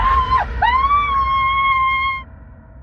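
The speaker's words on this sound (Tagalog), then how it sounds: "nagulantang na silang lahat nang makarinig sila ng isang malakas na hiyaw mula sa loob ng bahay" A loud, wavering scream rings out from inside a house, a single long piercing cry that swoops down and back up before holding steady, then cuts off sharply.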